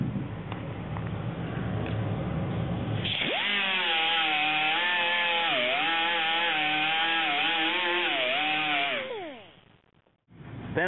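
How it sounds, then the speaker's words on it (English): A grinder works a sheet metal patch, giving a loud, close, sustained high whine whose pitch wavers as it bears on the metal, then spins down and stops near the end. "grind just that area away"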